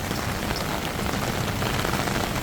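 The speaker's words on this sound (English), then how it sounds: "so I will show you how a regular rainy day looks in Bangkok." Steady monsoon rain pours down on a Bangkok street during the rainy season, a dense, continuous wash of drops hitting surfaces at close range, loud and unbroken with no voices.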